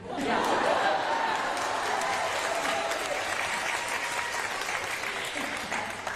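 Dense, sustained applause from a seated audience at a public conversation event fills the whole stretch, steady and loud with the hum of a crowd beneath.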